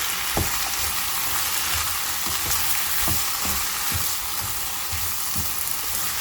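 Salted potatoes fry in a pan for aloo fry, a steady bright sizzle punctuated by a regular series of soft knocks and scrapes as they are stirred, with no speech.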